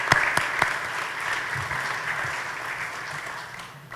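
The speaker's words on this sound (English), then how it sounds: "Let's give David a round of applause" An audience applauds the city's mayor at a State of the City event, steady indoor clapping with a few sharp claps at the start, gradually tapering off.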